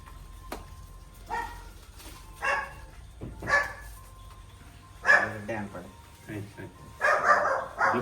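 A dog near a riverside temple barks in several loud, separate bursts outdoors during heavy monsoon rain, mixed with people talking nearby.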